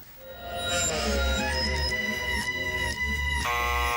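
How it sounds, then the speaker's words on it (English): Music played in reverse, a tune backwards, with swelling notes that fade in and cut off abruptly, a thumping low rhythm and smeared, sucking attacks throughout. "We are going to play a selection of songs backwards."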